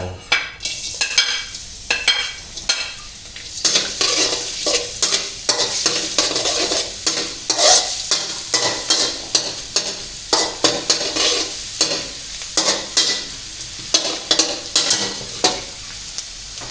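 Onion and garlic stir-fry in a hot wok for Chinese sausage fried rice, a loud sizzle broken by rhythmic scraping strokes of a spatula repeating about once per second.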